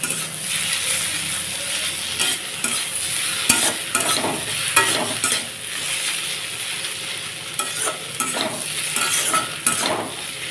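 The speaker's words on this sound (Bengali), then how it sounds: "এখন এটাকে দিয়েও ভালোভাবে একটু নাড়াচাড়া করে ভাজতে থাকবো" Snake gourd with turmeric sizzles steadily in a pan while a spatula scrapes and stirs it in repeated close strokes, with no talking.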